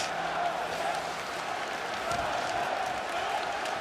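A packed ice hockey arena crowd at a Russia versus Sweden group-stage game of the 2018 World Championship roars and cheers in a steady, dense wash of noise that holds at an even level throughout.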